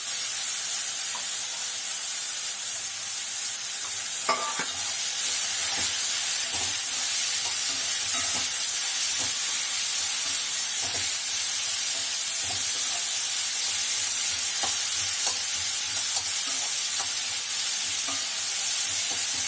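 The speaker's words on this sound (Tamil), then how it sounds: "நல்லா வதங்கட்டும்." Carrots with curry leaf powder fry in a pan with a steady, close sizzle and hiss, while faint scrapes and light clicks from stirring come through at intervals.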